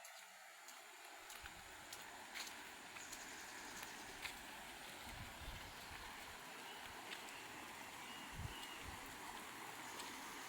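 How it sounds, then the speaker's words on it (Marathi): A village river in the Konkan during the monsoon rains, its broad steady rushing wash of water continuous and fairly close, with no voices over it. "इकडे या बाजूला आमची नदी आहे"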